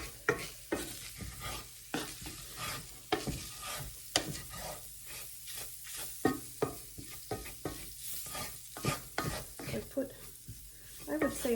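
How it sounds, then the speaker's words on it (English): Sausage sizzling in a pan with its drippings while being stirred, a constant frying hiss broken by repeated scraping strokes of a utensil against the pan, close and fairly loud with no voice. "sausage still in the pan here, and whatever bit of drippings there are. Let that cook a little bit."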